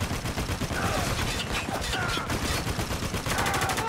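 Heavy machine gun fire in the Spec Ops: The Line video game, rapid dense bursts of gunfire hammering on continuously and loudly, with overlapping shots from several weapons.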